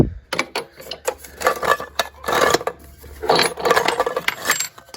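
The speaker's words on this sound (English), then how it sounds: "this is a clamp, just like that clamp." Metal lapidary saw clamp from a Texas lapidary machine company handled up close, giving a run of clinks, scrapes and rattles in irregular bursts with no talk.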